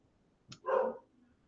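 A pet dog at home gives a single short bark after a quick preceding yip, fairly faint and somewhat distant, in an otherwise quiet room.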